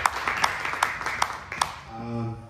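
An audience at a church service claps hands in a steady rhythm of sharp, evenly spaced claps, about five in two seconds, moderately loud, followed by a brief swell of voices and musical tone.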